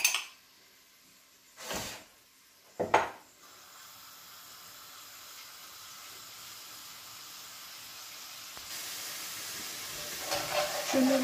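Creole spices are stirred in a large cooking pot. Two short scraping strokes sound close by, followed by a steady hiss that slowly builds and grows brighter toward the end.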